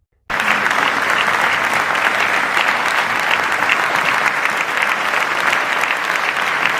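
A plenary session of the Parliamentary Assembly of the Francophonie bursts into loud, sustained applause and a standing ovation, dense clapping from a large hall crowd that starts abruptly and continues without letup.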